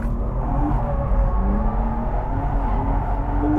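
A car drifts with the accelerator held down. The engine gives a steady, close drone and rumble that holds roughly even for a few seconds.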